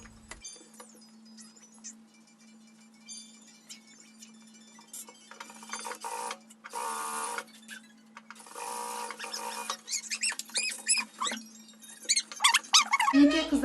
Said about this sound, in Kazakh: Ал енді вытечкілерді тігіп алайық.